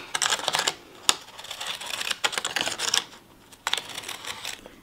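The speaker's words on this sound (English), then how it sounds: "use your pinking shears or scallop scissors and just cut about half an inch all the way around the" Pinking shears snipping around the rim of a paper plate, a run of close crisp cuts and paper rustles in bursts with short pauses between, no talking.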